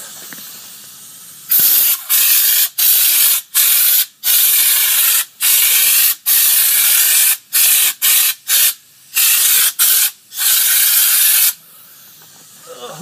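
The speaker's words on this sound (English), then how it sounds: "Got this fluid film here. I'm gonna do some undercoating on this Dodge." Aerosol can of Fluid Film undercoating sprayed under a Dodge, loud close hissing bursts of varied length separated by short gaps, with a quieter hiss before and after.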